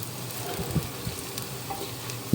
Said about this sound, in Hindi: ये प्याज जो है वो फ्राई होना शुरू हो गई है